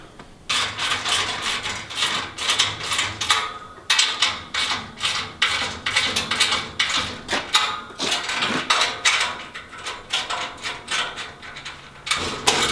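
Ratchet wrench tightening base plate U-bolts on a hay ring cover, a close, steady run of rapid clicking strokes repeated in bursts with short pauses between pulls, no voices.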